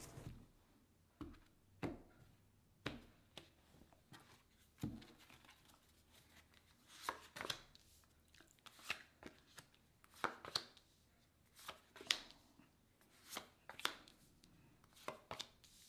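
Tarot cards being shuffled by hand, a run of soft, quick riffling and patting bursts at an irregular rhythm, close and fairly quiet, with no talking.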